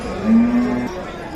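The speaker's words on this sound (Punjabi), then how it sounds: "ਅੱਜ ਤੜਕੀ ਸੂਈ ਹੈ ਵੀਰੇ ਇਹ ਗਾਂ" Cow that calved early that morning, mooing at the Dabwali livestock market in Punjab: a single short, close, loud moo lasting under a second, with faint background noise.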